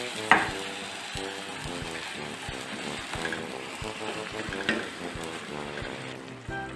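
Rice simmering in broth is stirred with a spoon, giving a steady soft bubbling sizzle with scraping strokes throughout, close and moderate in level, without talk.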